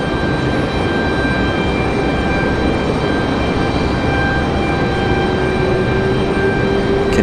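An American Boeing 777 spools up its jet engines after pushback at Raleigh-Durham International Airport at night, a steady, loud roar with a rising whine that holds throughout without talk.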